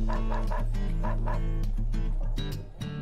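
A dog in the video game Dog's Life barks repeatedly at birds, a run of quick, close, loud woofs and yips in an uneven rhythm with some whimpering at the end.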